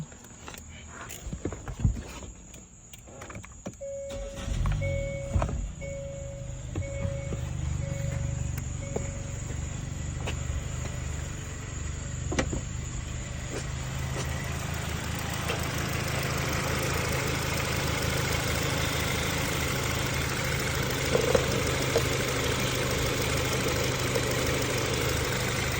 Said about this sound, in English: Starting up the engine.